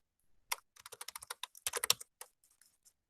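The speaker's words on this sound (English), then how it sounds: "So I type here minimal." Rapid keystrokes on a computer keyboard while entering a command in a Mininet network setup, a quick burst of close, crisp clicks over about a second and a half, then a few scattered taps and silence.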